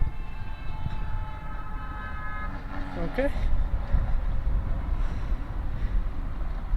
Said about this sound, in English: Guy honking on the highway.